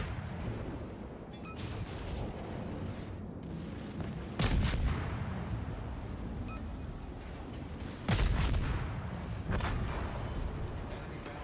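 Secondary guns on the battleship New Mexico firing in the naval combat game World of Warships, heavy booming shots at about 4.5 and 8 seconds over a steady rumble of nearby gunfire.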